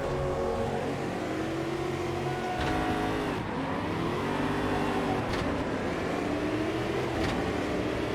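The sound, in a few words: race car engine revving in video game Automobilista 2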